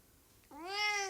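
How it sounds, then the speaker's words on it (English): A single cat meow, rising and then drawn out, close and clear after a brief quiet moment, heard alone without speech. "Yes, you're both cats."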